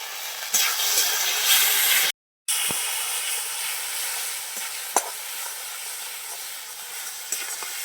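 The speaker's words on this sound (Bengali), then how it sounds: "টমেটো পেঁয়াজের সাথে মশলাটা ভালো করে ভেজে নিয়েছি" Spices fry with tomato and onion in a village kitchen, making a loud, steady hiss and sizzle, broken by a brief cut to silence and a few clinks of stirring.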